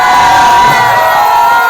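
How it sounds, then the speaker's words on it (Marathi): A loud crowd cheering and shouting in a village Shimga festival procession with Sankasur dancers, a dense sustained roar of many voices close by. "हा जल्लोष पाहायला मिळतो."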